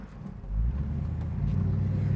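A 1968 Chevrolet Camaro with a fuel-injected motor firing up and settling into a deep, steady, close idle rumble, with no talking.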